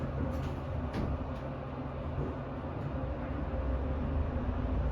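A Westinghouse/Mitsubishi scenic traction elevator at The RealReal in Chicago travels downward with a continuous low mechanical rumble and hum, steady and fairly loud throughout, with faint higher ticks early on.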